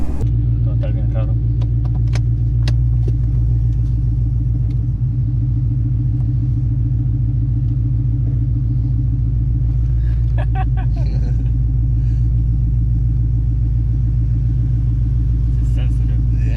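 Ford Mustang engine idling steadily after a push-button start, a deep continuous rumble close by, with a few brief blips and a voice over it.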